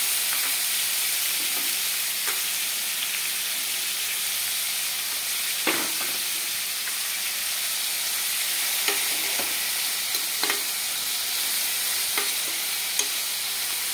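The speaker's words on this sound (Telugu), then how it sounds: "వీటిని ఒక 2 నిమిషాలు ఆయిల్లో మగ్గనిద్దాము." Vegetables fry in oil with a continuous moderate sizzle and hiss, while occasional spoon scrapes and light taps against the pan mark the stirring, with no voices.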